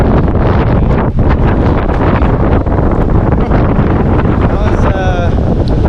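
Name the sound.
strong hurricane wind gusts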